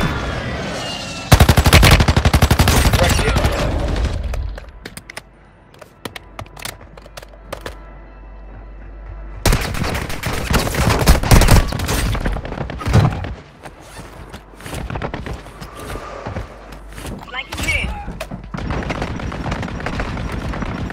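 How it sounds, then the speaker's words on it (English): Close air strike and mortar strike explosions in Warzone Mobile on Rebirth Island, heavy booms and bursts of rapid gunfire in loud clusters, separated by quieter stretches of rumbling and scattered shots. "Requesting close air"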